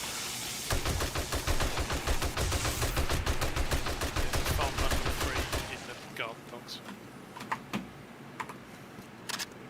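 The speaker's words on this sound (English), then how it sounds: "I keep shooting them until they're really dead." Rapid automatic gunfire from shooting zombies in the video game 7 Days to Die, a dense rattling burst lasting several seconds, then a few scattered quieter shots and noises.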